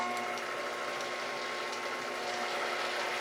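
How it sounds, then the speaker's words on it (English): A DC drive motor runs steadily on a drilling and sawing lathe, giving a constant whirring hum with a faint whine and light mechanical rattle. It is close but quiet, with no talk over it. "Got to turn the DC drive on"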